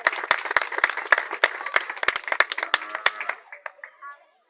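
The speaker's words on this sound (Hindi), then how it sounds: "खान साहब के लिए जोरदार ताली बजाएं।" A gathering claps for an honoured guest, loud sharp individual hand claps in an uneven burst that thins to a few scattered claps and then silence.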